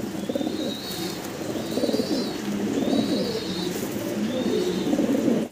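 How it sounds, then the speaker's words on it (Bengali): Maltese pigeons coo in repeated soft, throaty phrases up close, with faint higher chirps over them and no talking. "ভিডিও স্ক্রিনে আপনারা দেখতেছেন মাল্টেস কবুতর।"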